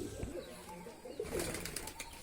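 A pigeon close by gives a soft coo amid faint rustling and a brief flutter of wings, quiet and short against a low background.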